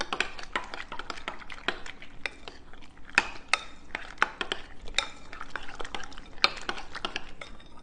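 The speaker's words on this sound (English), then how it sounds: "We're going to mix it up very thoroughly." Watergate salad dessert mixture being stirred thoroughly in a bowl: a close, steady run of spoon clinks and scrapes against the bowl, with no talking.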